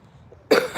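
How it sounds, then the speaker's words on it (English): A single sharp cough rings out close and loud on a calm morning beach by Jupiter Inlet, a short burst following near silence. "hate it when I cough on the beach report"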